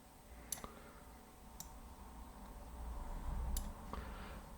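Sharp computer mouse clicks ring out, two quick ones early, another shortly after, and a final one later, crisp and close over a quiet hum.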